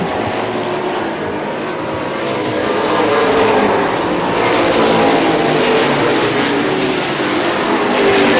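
Sportsman race cars roar around a dirt track in a pack, engines loud and close as they dive into a turn, the sustained drone swelling as cars pass.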